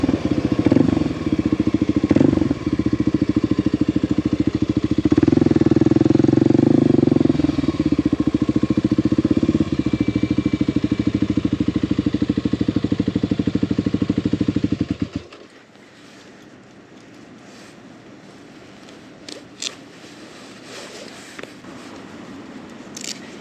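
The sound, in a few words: Kawasaki KLX 300 motorcycle riding on highway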